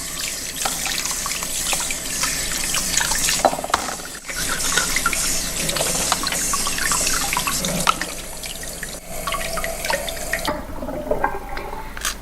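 Mussels being washed under a running kitchen tap, with a constant rush of water and frequent clicks and rattles of shells knocking together, loud and close, with no talk.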